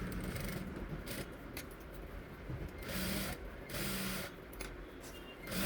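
A sewing machine runs straight stitches along a fabric strip in short repeated runs, a faint, steady mechanical whir with small pauses between bursts and no talk.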